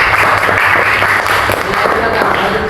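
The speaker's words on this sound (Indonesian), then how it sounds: "Oke, kasih tepuk tangannya dulu." Applause from a classroom audience, a steady, fairly loud wash of many people clapping together, lasting the whole stretch without pause.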